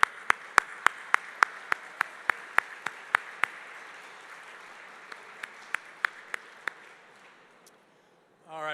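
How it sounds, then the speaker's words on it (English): Applause from an awards ceremony audience: a room of clapping that fades gradually, with a series of sharp, evenly spaced louder claps standing out near the microphone, ending in near quiet. "Another round of applause for Maggie."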